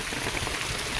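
Rain falling outdoors on a farm, a steady, dense hiss of drops with no voices, lasting about a second.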